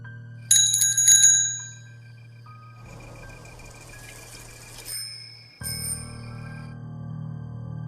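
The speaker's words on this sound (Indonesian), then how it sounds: "saat dia membunyikan bel sepeda, terdengar juga bel lain yang ikut menyahut dari kejauhan" A bicycle bell rings loudly and close with a quick burst of bright rings, followed by quieter ringing tones that fade in later from another bell.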